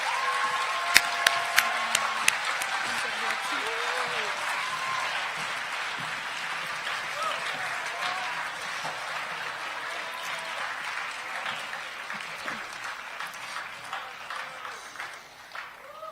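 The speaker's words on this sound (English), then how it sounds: "Please give another round of applause to the amazing panel of speakers." Audience applause at a school assembly for a panel of speakers, a few sharp nearby claps at the start before a long, steady roll of many hands that slowly thins toward the end.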